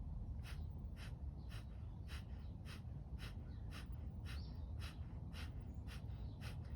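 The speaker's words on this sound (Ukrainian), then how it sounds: "ми свідомо робимо тільки видихи, а вдих відбувається автоматично" Forced exhalations through the nose, done as a belly-pumping breathing exercise, come in a steady, even rhythm of about a dozen short, sharp, faint puffs, with quiet passive inhales between them.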